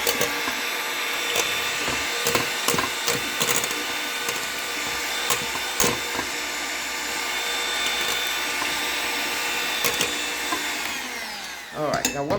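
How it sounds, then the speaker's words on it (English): An electric mixer whirs steadily through eggs for waffle batter, with scattered knocks against the bowl, before spinning down at the end. "Now what we're going to do now is we're going to mix this together."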